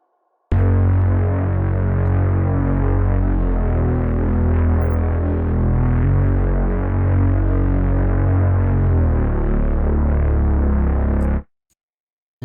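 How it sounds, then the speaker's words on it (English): A thick, growling Reese bass synth from a liquid drum and bass track holds one long, deep note with a slow throbbing wobble, loud and unbroken before it cuts off abruptly, with no voices. "And the Reese bass sounds like this"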